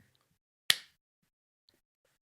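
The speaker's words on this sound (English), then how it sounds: "we can also like clap again if you want to slate it together" A single sharp hand clap slates a recording in a quiet room. It is a near, crisp transient with a short decay, followed by near silence.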